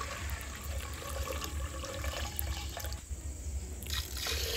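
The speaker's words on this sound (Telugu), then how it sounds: "ఈ 2 గ్లాసుల బియ్యం మనం కడిగి 2 సార్లు 3 సార్లు అయినా ఒక అరగంట సేపు నానబెడతామండి." Water splashing and trickling as rice grains are washed in a vessel during village cooking, a steady wet sloshing with some drips near the end.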